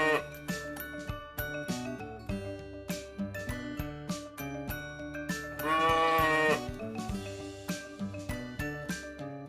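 A sheep gives one long, wavering bleat in the middle of a bouncy, rhythmic children's music track with plucked and tapped notes throughout.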